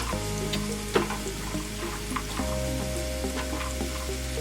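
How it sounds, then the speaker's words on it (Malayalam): Raisins and cashews frying in hot oil for a beef biryani, a steady close sizzle with soft stirring scrapes and a background hum, no voices. "ഒന്ന് എണ്ണയിലിട്ടൊന്ന് ചൂടാക്കിയെടുക്കാം."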